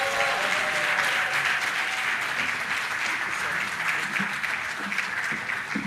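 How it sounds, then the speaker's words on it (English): A conference audience applauding after a speech at a Nigerian youth inauguration, a loud, dense burst of clapping with some voices mixed in, fading slightly toward the end. "Let's give him a better round of applause, please."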